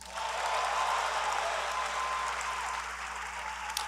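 Audience at a Georgia Tech engineering master's commencement applauding, a dense, steady burst of clapping that fades slightly toward the end.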